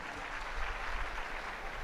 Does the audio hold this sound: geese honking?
no